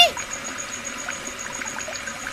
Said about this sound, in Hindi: ये आवाज वॉश बेसिन से आ रही है।